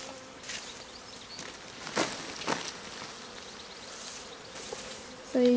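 Honeybees buzz steadily and fairly close during a shook swarm, with bees shaken off the comb into a new hive, a soft continuous drone with a few louder passes.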